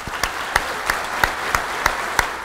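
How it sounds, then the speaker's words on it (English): Applause at a school awards ceremony, with a steady wash of clapping from the audience punctuated by a few sharper, louder claps that recur at regular intervals. "So let's give them a big round of applause."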